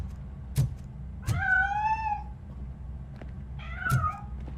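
A cat meows in the RoboCop Rogue City video game, two drawn-out plaintive meows between a few sharp knocks over a low ambient rumble.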